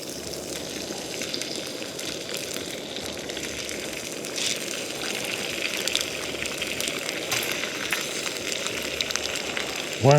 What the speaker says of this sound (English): That's what you want, that sizzle.